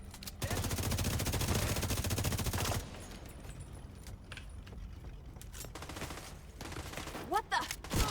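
Video game gunfire rips out in a rapid, loud automatic burst for a couple of seconds, then quieter scattered shots and clicks follow, with a player's voice coming in near the end.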